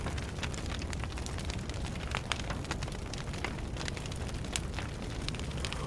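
Crackling fire burning steadily after a fireworks explosion, a dense continuous roar of close, moderately loud crackles and pops with no speech.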